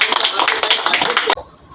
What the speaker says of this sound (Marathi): आपण जोरदार टाळ्या